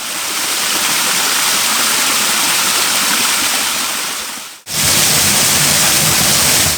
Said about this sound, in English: right at the end, just inside the woodland, I found two small falls tucked into the bank